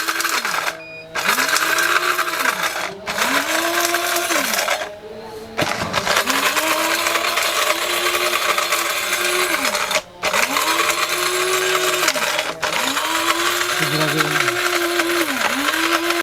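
A mini chopper grinder whirs in repeated bursts while grinding cardamom, its motor pitch rising and falling with short pauses between runs, and people talk over it.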